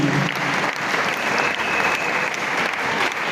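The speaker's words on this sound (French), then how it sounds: "Aplaudimos pela palavra do Senhor" A church congregation claps together in sustained, lively applause, loud and close, filling the room for a few seconds with no clear speech.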